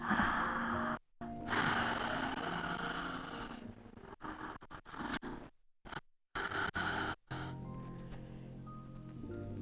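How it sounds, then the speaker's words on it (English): Slow, deep yoga breaths on a mat, long airy inhales and exhales rolling in and out like ocean waves, close and soft with short pauses between. "We call it deep ocean breathing. Like an ocean rolling in and rolling out."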